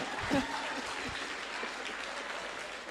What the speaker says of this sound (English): No, a round of applause, a round of applause.